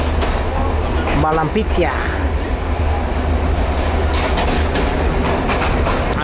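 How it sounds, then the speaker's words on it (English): The interior of a moving passenger train on a Sri Lankan coastal line gives off a steady rumble with rhythmic wheel clatter and a few brief squeals, and a person speaks briefly over it. "So we're on the train and we're moving."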